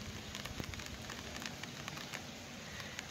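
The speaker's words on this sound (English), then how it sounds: "It's raining. It's been raining all day." Rain falls steadily over an outdoor yard after a full day of rain, a faint, dense hiss with scattered soft drips and patters and no talking.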